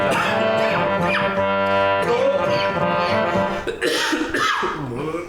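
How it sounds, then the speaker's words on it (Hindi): Repeated coughing sounds over a sustained musical or vocal tone, loud and close, with rough bursts breaking through toward the end. "कभी खांस भी लेते मियाँ"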